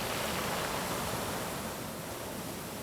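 Sea waves washing over a beach of round, smooth pebbles on the Yangyang coast in autumn, a steady broad hiss of surf with no distinct breaks, continuous and even throughout.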